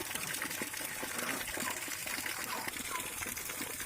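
Water gushing steadily from a jetmatic hand pump beside a rice paddy, a continuous close splashing flow at even loudness.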